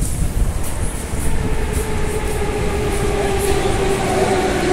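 A Moscow metro train rolling into a station, loud rumbling with rhythmic wheel clatter and a faint rising squeal as it slows.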